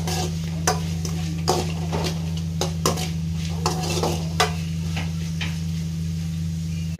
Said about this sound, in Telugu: ఒకసారి కలుపుకుందాం బాగా.